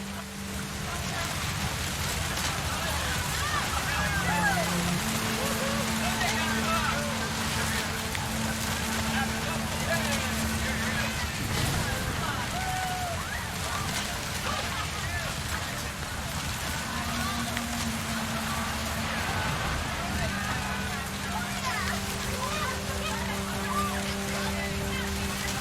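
Heavy rain falls steadily in the video game What Remains of Edith Finch, a dense continuous hiss under a narrating voice and faint low tones.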